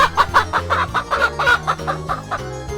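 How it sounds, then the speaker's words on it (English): Chicken clucking from a squishy farm-animal toy, a rapid run of loud, close, nasal clucks repeating in quick bursts for nearly three seconds, alone without talk. "Chicken."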